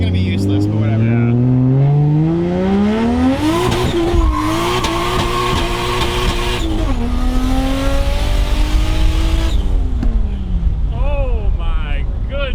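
A 600 hp 1JZ-swapped Lexus SC300 accelerates hard from inside the cabin, its engine rising loudly through several gear changes with rising harmonic sweeps, brief dips at each shift, and a final lift-off near the end.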